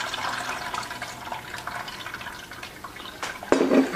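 Kefir pouring through a strainer into an 8-quart pot, a faint, steady liquid trickle and splash with scattered small drips, quiet overall and close by, without any talk.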